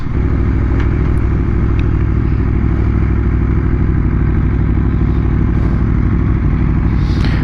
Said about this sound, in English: Got Mick in front on a CB 1100, and his son Jake on a borrowed R6.